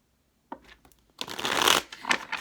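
Tarot cards being shuffled by hand, a brief riffle followed by a longer, louder flurry of cards slapping and sliding together, close and clear, with no voices.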